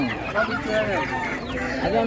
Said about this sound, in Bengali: এদিকে মুরগি আছে